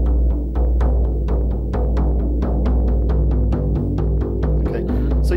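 A shamanic frame drum beats a steady, repetitive rhythm. The deep, booming strokes fall at an even, fairly quick pace over a sustained low resonance, loud and close, with no voices.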